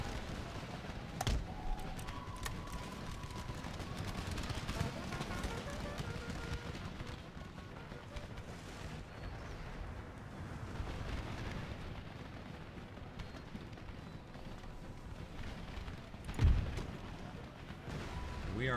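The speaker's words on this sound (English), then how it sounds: "We are under fire now from the armed citizenry." Scattered musket volleys and rumbling battle din from the PC game Empire: Total War, with a dense, continuous wash of distant fire and one sharper nearer crack late on.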